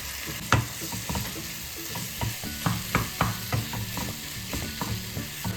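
Boiled potato being stirred into a sizzling chicken cutlet masala, loud close frying hiss with repeated rhythmic scraping and clacking of a spoon against the pan.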